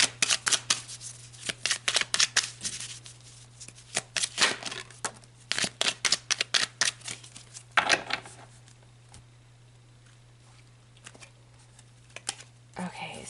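Tarot cards being shuffled by hand in quick, crisp riffling bursts with short pauses between, then a quieter stretch before a few final flicks; a low steady hum runs underneath throughout.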